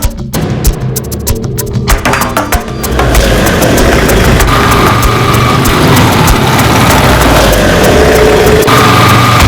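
A motorbike engine idling, loud and steady after a few seconds of rougher, uneven rattling at the start, running alone with no talk.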